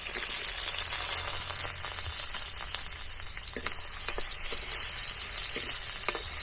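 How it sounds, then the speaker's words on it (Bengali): Onion frying in hot mustard oil in a kadai makes a continuous, bright hiss up close, scattered with small pops and faint stirring scrapes, with no voices. "এবার পেঁয়াজটি ভেজে নেব।"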